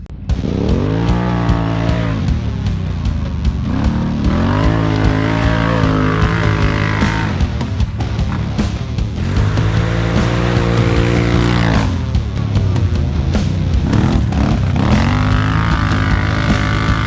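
Dan's Renegade 1000 runs laps around a short course, its engine whine swelling and falling in repeated loud sweeps as it speeds by and circles back.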